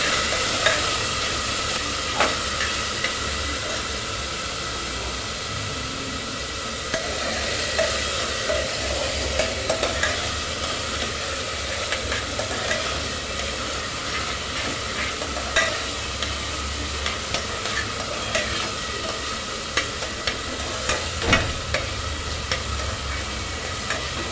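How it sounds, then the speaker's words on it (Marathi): Finely chopped tomato sautés in a pan for an onion- and garlic-free dish, giving a steady close sizzle with occasional scraping stir sounds throughout, no voices. "टोमॅटो एक बारीक चिरून टोमॅटो घातला आहे आता हे चांगलं परतून घेऊ"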